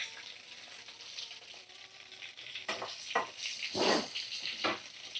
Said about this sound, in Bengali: তো চলো আলুগুলো ভাজা করে নিই